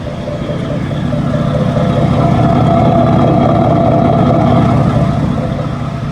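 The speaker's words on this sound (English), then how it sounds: "I like that exhaust sound." A V8 truck engine at a truck show idles and rumbles with a deep, steady exhaust note, swelling slightly louder through the middle, close by and without talk.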